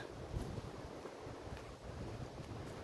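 Wind gusting across the open Cotswolds countryside on a spring walk, a steady, rough rushing that buffets the microphone for a few seconds with no voices.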